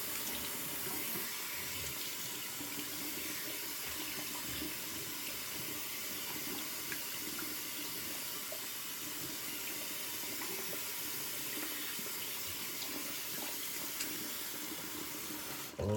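Tap water runs steadily from a faucet to wet a freshly shaved head, a faint continuous hiss and splash that lasts throughout with no talking.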